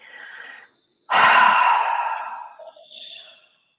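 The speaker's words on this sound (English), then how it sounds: "Just take a big deep breath in here." During an EFT tapping session, one person takes a long, deep, audible breath in close to the mic, with softer breaths just before and after.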